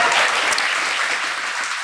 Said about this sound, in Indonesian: Saya boleh tepuk tangan dulu ya untuk Mongol ya.